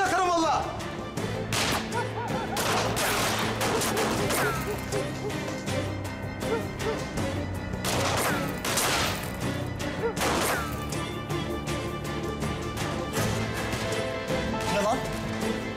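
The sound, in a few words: gunfire in a firefight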